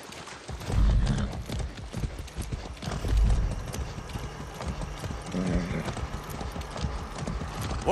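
Horse hooves clip-clop steadily in the video game Far Cry 6, with a whinny and snorting breaths over a busy ambient game soundscape, the galloping rhythm continuous and fairly close.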